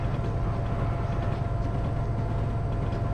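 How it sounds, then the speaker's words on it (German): Union Pacific SD70ACe locomotive rolling over a bridge on the Granger Heartland route in Train Simulator 2020, a steady heavy rumble with a low rhythmic chugging beat throughout. "da tuckert schön der Eisenbahn-Sound, wie wir da über die Brücke drüber gefahren sind"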